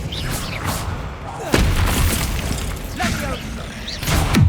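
An Expelliarmus spell cast in the Hogwarts Legacy video game, heard as several booming magical blasts and whooshing thuds in a loud combat mix, with a voice calling out briefly among them.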